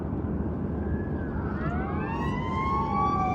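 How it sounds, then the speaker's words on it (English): An ambulance siren wails over steady traffic noise, its rising and falling tones growing louder as it approaches. "Another ambulance."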